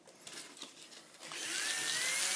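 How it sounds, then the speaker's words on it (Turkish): A power drill spins up to shape a wooden model airplane propeller, starting with faint scraping and handling and then rising into a steady, whining hum that stays close and fairly quiet. "Matkapla tekrar önünü katacağım."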